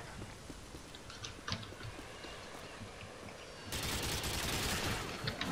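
Gunfire from a gun in the video game Modern Warfare 2, a faint steady crackle of shots that grows louder and denser near the end, with no clear talk.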